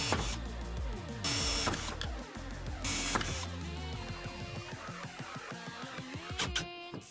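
An electric drill bores three holes into a homemade wooden guide rail for a circular saw. The whirring motor is loud and close, in several bursts with pauses between them, and no one speaks.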